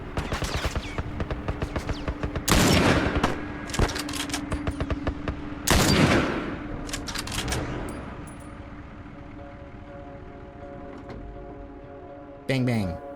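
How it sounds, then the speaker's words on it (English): Gunfire in The Last of Us Part 1 remastered video game, with rapid crackling bursts and two heavy, loud volleys over a sustained din, followed by a sharp final report. "Had to go for a few more headshots there."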